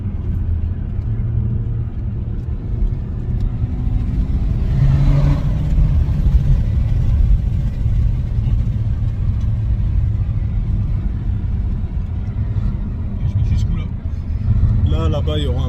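A Peugeot 308 GTi accelerates, heard from inside as a steady low engine rumble that swells and builds, with brief voices over the drone.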